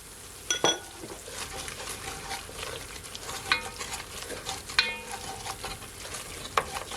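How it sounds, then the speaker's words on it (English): Chopped onion and garlic frying on low heat in a pot while being stirred: a steady soft sizzle with scraping and occasional clinks of a utensil against the metal, close and continuous. "So now I'm gonna add my onion. I'm also gonna add my garlic."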